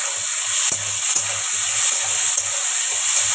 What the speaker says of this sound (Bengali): এই যে আদা আর রসুনটা দিয়ে দিলাম। একটু ভেজে নিই।